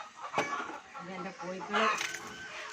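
Hens and roosters at a backyard coop cluck repeatedly while pecking at jackfruit biryani, a busy close chorus of short clucks with a person talking over it.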